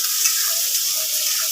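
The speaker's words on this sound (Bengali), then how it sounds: "এবার আমি পেঁয়াজ কুচিগুলো ছেড়ে দিলাম তেলে। ভালো করে নাড়াচাড়া করে নিচ্ছি।" Chopped onions sizzle in hot oil while being stirred, a steady close hiss with faint scraping underneath and no voices.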